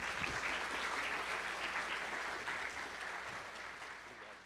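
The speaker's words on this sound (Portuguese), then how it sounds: "Salva de palmas, pessoal!" An audience at a presentation on concrete wall construction claps in a steady wash of applause that holds for several seconds and slowly fades, with no voices over it.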